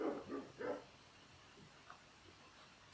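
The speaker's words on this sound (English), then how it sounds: "Got a dog barking outside" A dog barks outdoors, two or three quick close barks in the first second, then fainter yips and a brief whine trail off into quiet room tone.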